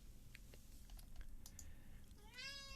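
A cat gives one rising, drawn-out meow close by near the end, after a stretch of quiet clicking and tapping like typing on a computer keyboard.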